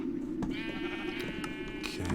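Sheep in the Minecraft video game bleat with a wavering, nasal tone that holds for about two seconds over steady game background noise, loud and close, with no talking.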